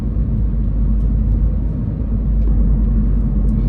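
A Mini Cooper S R56 turbo, 135 kW (184 hp), drives along a road, giving a steady, loud, low engine and road rumble that runs unbroken throughout, with no talking.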